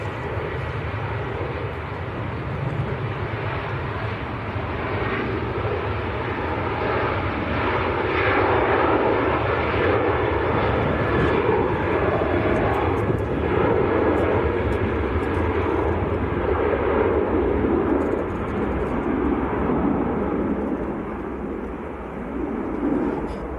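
A Ryanair jet departing Manchester Airport produces a broad, sustained engine roar that holds steady and swells slightly before easing, heard from a distance outdoors.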